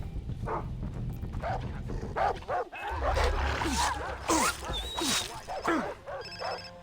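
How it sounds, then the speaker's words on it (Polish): Dogs bark and yip in the video game Far Cry 3, a run of sharp barks at mid distance over a dense game-world ambience, with a louder rumbling stretch partway through. "I pieski słyszę."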